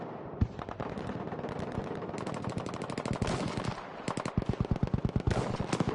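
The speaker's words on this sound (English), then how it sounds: "flames everywhere, bullets flying everywhere, explosions going off" Dense gunfire and explosions crackle through a large battle in the video game Frontlines, with steady volleys of automatic fire that tighten into rapid, loud rhythmic bursts and a few heavier booms underneath.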